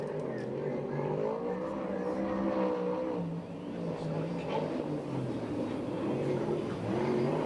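USAC/CRA sprint car lapping Perris, its engine a steady droning roar through the run at moderate distance, with a voice talking over it.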